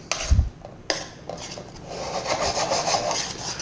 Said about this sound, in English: So just low heat and just constant stirring